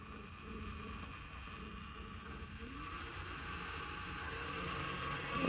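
A Craig Lyn HG-1 Prime coffee grinder runs at its lowest RPM, giving a quiet, steady low hum with a faint grinding texture that holds evenly and swells slightly near the end.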